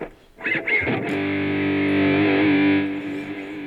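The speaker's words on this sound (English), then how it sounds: "I'm gonna turn my distortion on. A little bit of delay" A sustained electric guitar chord drenched in distortion, ringing out after a few picked notes, with a smeared, echoing tail from delay.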